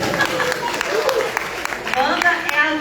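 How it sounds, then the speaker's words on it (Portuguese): Audience in a church giving a round of applause, a steady wash of clapping heard throughout the short stretch, fairly close and mixed with light crowd noise. "Uma salva de palmas para Wanda."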